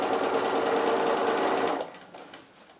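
A sewing machine runs in a steady, close-up mechanical whir as it stitches through fabric and wadding layers of a sewn gift box, then stops, leaving a quiet tail.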